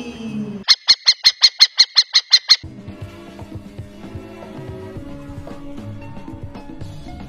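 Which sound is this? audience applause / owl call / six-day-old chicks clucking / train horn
owl call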